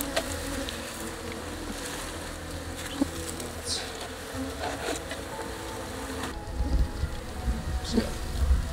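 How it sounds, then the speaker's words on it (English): Honeybees buzz steadily around a hive box set out at a roadside rescue, a dense, continuous drone with scattered louder passes nearby and outdoor background noise underneath. "Because I can see some bees making their way over."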